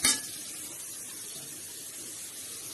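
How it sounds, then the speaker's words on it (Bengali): Onions fry in a kadai for a meat dish, giving a steady, close hiss and sizzle after a brief clatter at the start. "দেখতে পাচ্ছেন আমি কড়ার মধ্যে পেঁয়াজ দিয়ে দিয়েছি"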